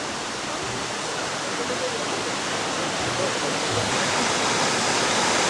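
Waterfall on the River Moor near Port Erin, Isle of Man, a dense, steady rushing roar of falling water, continuous and close throughout.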